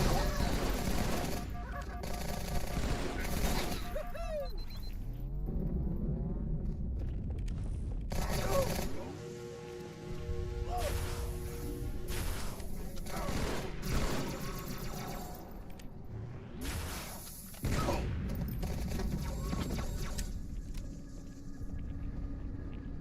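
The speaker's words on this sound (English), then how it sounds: "Stop shooting at me." Rapid bursts of automatic gunfire from the Halo 2 video game crackle in repeated volleys, loud and sustained, with someone talking over the shooting.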